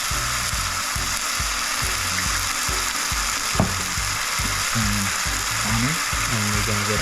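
Teriyaki glaze with scallions sizzles steadily in a hot pan, a bright continuous hiss over a rapid rhythmic rattling from the cooking, with a muffled voice faintly in the background.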